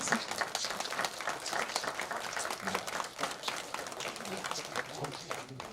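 Audience applause for a professor's lecture at a humanities event held at a head family's historic house in Geochang, Korea; dense, sustained clapping from a modest crowd throughout, with no speech over it.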